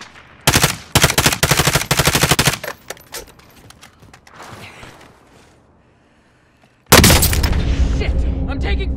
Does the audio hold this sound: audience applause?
no